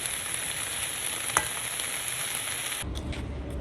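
Palak bhuji, spinach being fried in a pan, sizzles steadily and close up with a brief stirring scrape, then the frying cuts off near the end.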